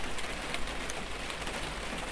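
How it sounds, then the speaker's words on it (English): Rain falling steadily on the leaves of a mashua plant in a garden corner, a dense even patter with faint individual drops, no voices. "I just saw the raindrops hitting the leaves on the mashua in the corner there"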